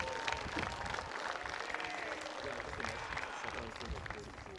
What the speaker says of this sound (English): let's have one final round of applause for this great class of Waves.